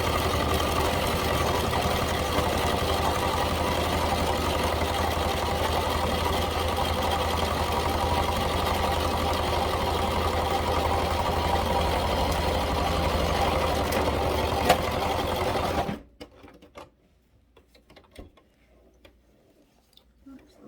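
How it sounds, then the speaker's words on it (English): A sewing machine runs steadily for about fifteen seconds, stitching through a tea towel and pot holder with a fast, even mechanical whir, then stops abruptly, leaving faint handling noises. "Just gonna get my tea towel and pot holder back under the sewing machine."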